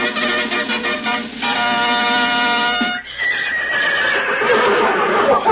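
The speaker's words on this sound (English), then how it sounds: "Can't you keep that horse quiet?" Horse neighing loudly in a radio play, a long whinny with harmonic stacks, followed by a second rising neigh over clip-clop and busy background sound.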